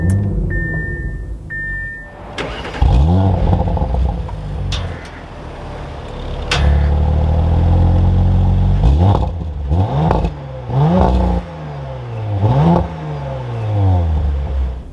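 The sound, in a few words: 2021 Audi RS5 Sportback engine starting and revving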